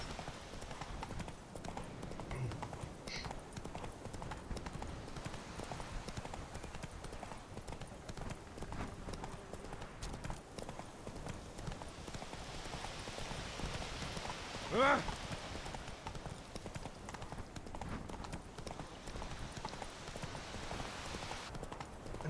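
Horse hooves clip-clop steadily on a road in The Witcher 3 video game, a continuous rhythmic trot under ambient game sound with a voice speaking over it.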